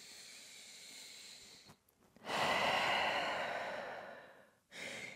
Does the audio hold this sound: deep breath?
yes